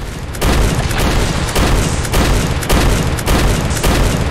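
Heavy booming blasts from a gold shotgun in the game Vomitoreum 2, fired at a dragon: loud, close, regularly spaced shots roughly every half second, each a broad thudding burst, with no voices.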